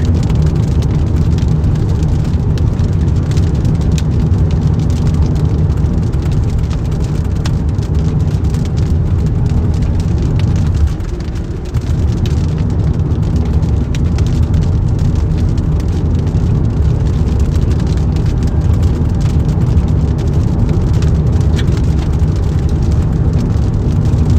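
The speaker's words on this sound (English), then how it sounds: "So this thing is dropping some torrential rain." Torrential storm rain pounding steadily during a tornado threat, a loud dense roar mixed with road noise from a vehicle, briefly dipping before resuming.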